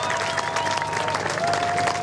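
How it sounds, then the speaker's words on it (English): A crowd at a surfing awards ceremony for the Margaret River Pro claps steadily in a dense wash of applause, with faint voices mixed in. "give him another round of applause"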